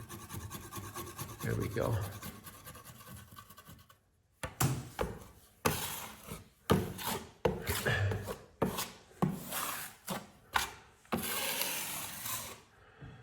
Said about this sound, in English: Now I can just take my taping knife and just cut right along the edge of this archway with my knife.